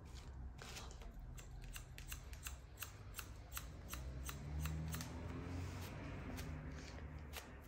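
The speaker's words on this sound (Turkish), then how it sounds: "Makasla tarağın senkronizasyonunu çok iyi yapmanız lazım" Barber's scissors snip through long hair in a quick, steady rhythm of crisp metallic clicks, close by and fairly soft over a low room hum.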